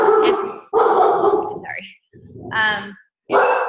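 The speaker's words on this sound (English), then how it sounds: "That's why he's barking." A dog barks indoors at home, a burst of loud, close barks and yips in quick succession with short pauses between them.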